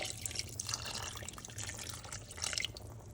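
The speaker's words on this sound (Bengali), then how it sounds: "আবার আমি ঢাকনিটা তুলে যে পেঁয়াজ বাটার জলটা আমি রেখে দিয়েছিলাম সেটা আমি এবার এখানে একটু দিয়ে দেব" Water saved from grinding onion paste is poured into a cooking pot, giving a soft, continuous trickle and splash with a few drips, quiet and close, without talking.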